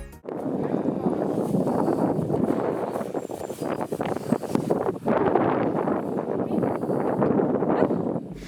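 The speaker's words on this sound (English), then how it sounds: "the wind is a tiny little bit overpowering" Wind buffets an outdoor camera microphone, a loud, rough, continuous rumble with gusting surges that fills the whole stretch.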